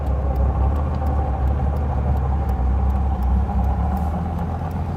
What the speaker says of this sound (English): It's idling at about 700 RPM.